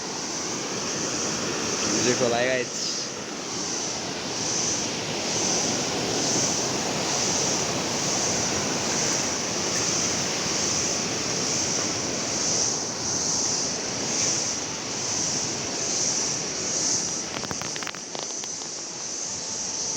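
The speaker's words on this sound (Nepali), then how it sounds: "यहाँ तल चाहिँ घिम्जे खोला" Ghimje river rushing below a bridge in a Nepali village, a steady broadband roar of flowing water mixed with wind noise, with a brief voice near the start.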